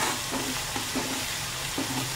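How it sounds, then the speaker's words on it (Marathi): Garlic and coriander roast with onion and tomato in a hot pan, a steady close sizzle broken by a few soft scraping stirs, with no voices. "लसणाचा कच्चेपणा जाऊपर्यंत भाजून घ्यायचं"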